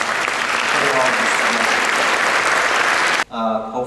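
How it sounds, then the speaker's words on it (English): Conference audience applause, thick and sustained, cut off abruptly near the end as a voice begins speaking. "Let's please all give them a round of applause."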